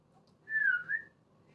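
A person whistles one short, clear note that rises and then dips, soft and close, in an otherwise quiet moment.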